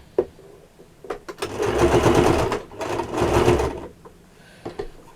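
A sewing machine stitching a small mini apron runs in two sustained bursts of whirring needle action, close and fairly loud, with brief clicks and pauses between and no talking.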